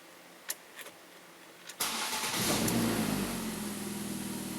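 A Ford Focus engine with worn engine mounts cranks and starts after a few faint clicks, then settles into a rough, rumbling idle with a noticeable low shudder.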